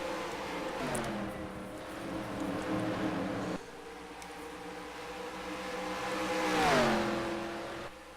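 Race cars in the Auto Club round of a Busch Series video game race, engines droning with shifting harmonic whine as cars run together, one rising and dipping in pitch near the end, steady and moderately loud throughout.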